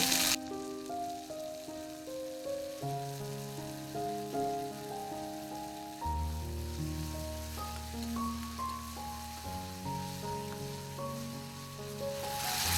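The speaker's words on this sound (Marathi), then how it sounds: "टोमॅटो सुद्धा 2 मिनिटं मोठ्या आचेवरती चांगलं परतून घ्यायचं आहे." Onion and tomato sizzle steadily in oil over high heat, a soft continuous frying hiss running under louder melodic background music.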